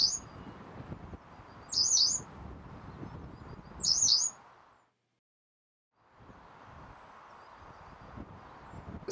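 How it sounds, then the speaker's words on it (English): A male yellow wagtail, a bright yellow songbird of flooded meadows, gives two brief, loud, repeated sweeping calls spaced a couple of seconds apart over a soft outdoor background hiss. "Male yellow wagtails are even brighter than yellowhammers, but their song doesn't match their plumage."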